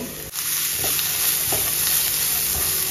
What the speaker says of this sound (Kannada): ನೋಡಿ ಚೆನ್ನಾಗಿ ಫ್ರೈ ಮಾಡಬೇಕು